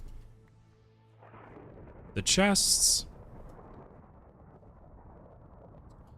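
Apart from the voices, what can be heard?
thunderstorm in the video game Minecraft (ATM 9 modpack)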